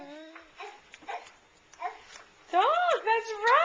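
A young child imitates a dog, making short, babbling bark-like vocal sounds that become louder and more sustained toward the end, with brief pauses between bursts.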